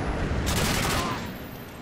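Dense, loud automatic gunfire bursts out in a Call of Duty: Modern Warfare 2 team deathmatch match on the Afghan map, a rapid rattle over steady game noise that fades after about a second.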